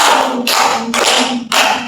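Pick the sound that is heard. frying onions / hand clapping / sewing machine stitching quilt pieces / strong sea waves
hand clapping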